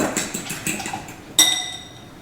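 Two large eggs whisked in a bowl, giving a quick run of rhythmic clinks and taps, then a sharper ringing knock of utensil against the bowl, close and fairly loud.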